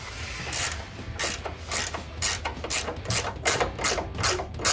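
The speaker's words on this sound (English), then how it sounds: "we're gonna be using an 18mm ratcheting wrench for that." An 18mm ratcheting wrench turning the upper strut nuts on a 2019-2024 Chevrolet Silverado 1500 during an upper control arm install, giving about a dozen crisp, close ratchet clicks in quick bursts over a low background hum.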